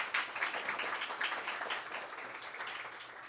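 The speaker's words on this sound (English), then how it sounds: "Clap it up for Mr. Drew one more time." An audience at a summer appreciation luncheon claps for a departing speaker, with dense, steady applause of fairly faint level that slowly tapers over a few seconds.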